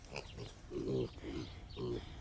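Weaned piglets grunt and squeal in short bursts, three or four close calls amid outdoor rustling, fairly near and moderately loud.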